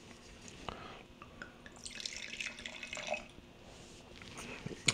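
Wine poured into a glass to rinse it, heard as a soft trickle and splash of liquid with a few drips, fairly close and quiet.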